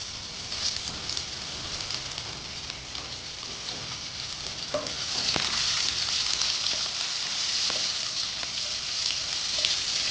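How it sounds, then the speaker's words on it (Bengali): Potatoes and carrots go into hot oil after nigella seeds and green chilli are tempered, giving a steady, crackling sizzle with scattered pops that grows a little louder partway through. "কালো জিরাটা ফোড়ন দিচ্ছি দিয়ে দিচ্ছি কাঁচা লঙ্কা এখন আমি আলুটা দিয়ে দিলাম আলু গাজর"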